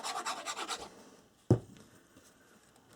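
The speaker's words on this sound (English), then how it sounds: "then this I'm going to burnish this in" A paper image matted to black cardstock is burnished onto an album page. Quick, quiet rubbing strokes are followed by a single soft tap, then near silence.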